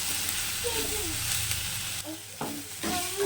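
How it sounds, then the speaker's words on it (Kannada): Coriander and mint frying in a pan for chicken sambar, a dense, continuous close sizzle with faint spatula scrapes, briefly dipping and returning. "ಕೊತ್ತಂಬರಿ ಜೊತೆ ಸ್ವಲ್ಪ ಪುದೀನ ಹಾಕಿದ್ದೀನಿ ಚೆನ್ನಾಗಿ ಫ್ರೈ ಮಾಡ್ಕೋಬೇಕಿದ್ದೀನಿ"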